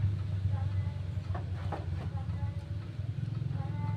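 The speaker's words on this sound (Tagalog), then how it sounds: "Umandar na rin yung kanyang gear motor. Hinila na niya para umikot yung dryer." An automatic washing machine's gear motor drives the dryer tub in spin mode, giving a low, steady mechanical hum with light rattles while someone talks over it.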